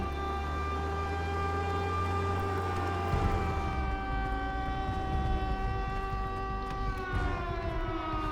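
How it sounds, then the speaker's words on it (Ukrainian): A civil defense style alarm siren in the game Contraband Police wails steadily and loudly at a police station, with the low drone shifting partway through and no talk over it. "Алярм!"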